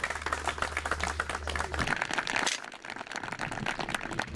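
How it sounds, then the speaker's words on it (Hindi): Applause for a farmer winning the Kisan Cup on a television farm quiz show, a dense, steady patter of many hands clapping throughout, with a low hum fading out early. "जोरदार तालियां बजा दीजिए जरा।"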